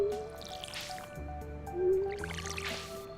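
Water pours from a watering can onto crops in the Stardew Valley farming game, two soft splashing bursts with drips, set against steady game music.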